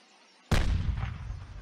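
A tank turret gun fires in a video game's US expansion update: one sudden, loud boom whose deep rumble rolls on and fades slowly, with no voices over it.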